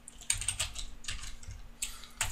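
Typing on a computer keyboard while coding, with several short bursts of quick, crisp key clicks separated by brief pauses. The sound is close and fairly quiet, and no one talks.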